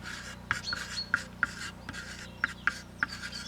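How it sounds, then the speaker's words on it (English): A homemade charcoal pencil writes on a dry piece of wood, giving short scratchy strokes with sharp little taps and rasps in an irregular rhythm, close and quiet, with no voices. "So you have a piece of wood, make sure it's dry, and you can write"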